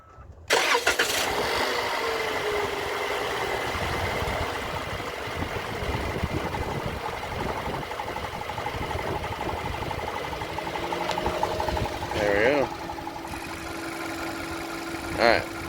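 A 2021 Toyota RAV4 engine cranks and catches, then settles into a steady idle heard up close, with a faint ticking fuel-system whir and some background noise throughout.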